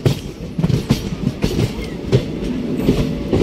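Ranakpur Express running on the line near Palanpur, with a steady rumble and rhythmic clickety-clack of wheels over rail joints, heard close and continuous without talk.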